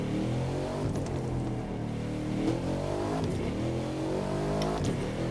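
A sports car engine in The Crew 2 revs steadily and loudly, its tone rising and falling in repeated sweeps with no talking over it.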